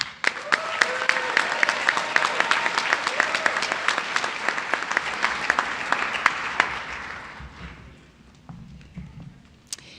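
Applause breaks out for Phi Theta Kappa honor society graduates at a college commencement ceremony, with loud, sharp individual claps standing out over the crowd before it thins and fades over the last couple of seconds.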